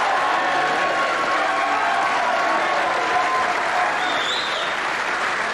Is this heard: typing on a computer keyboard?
no